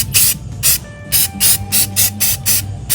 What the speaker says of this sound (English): I'm gonna get the spray painting going